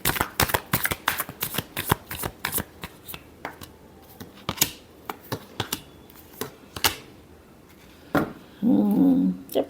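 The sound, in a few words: shuffling tarot cards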